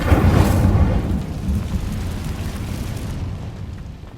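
Incendio fire spell cast in a video game, a loud whooshing burst that flares up at once, then fades into a long rumbling tail.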